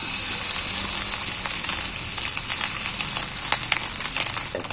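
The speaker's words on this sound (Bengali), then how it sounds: "এই হাতার সাহায্যে ডিম ভাজা দেখবে একবার, পাতলা পাতলা করে।" Fish roe frying in oil in a pan, turned with a ladle, gives a continuous bright sizzle with scattered crackles and occasional soft clinks of the utensil.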